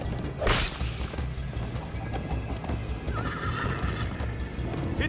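Horse in the video game Minecraft Story Mode gives a loud, close whinny near the start, followed by steady rhythmic galloping hoofbeats and rushing motion noise, with no talking.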